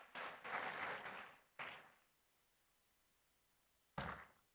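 An audience applauds at a medal ceremony during an institute's foundation day, a few seconds of broadband clapping that fades, followed by another short burst of applause.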